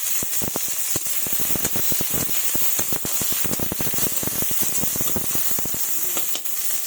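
Green chillies and chopped onion sizzle and crackle loudly in hot mustard oil, a dense steady hiss broken by rapid sharp pops and spits throughout, with no talking.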